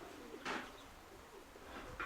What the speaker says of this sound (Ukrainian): це старі голуби